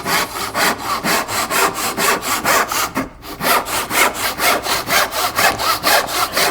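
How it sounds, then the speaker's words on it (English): A hand saw cuts down an angled outer tenon shoulder in wood, giving steady rhythmic back-and-forth rasping strokes, close and loud, with one brief pause midway before the sawing resumes. "So I'm just tilting the saw a little bit to my right to cut down that angled outer shoulder"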